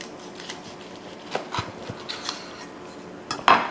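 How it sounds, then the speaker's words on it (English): A knife and fork cut into cooked chuck roast burgers with onion and peppers on a plate, giving a few quiet scrapes and light clinks, and a sharper clink at the end. "the first thing I'm going to do is just cut into these and just show you the middle of them"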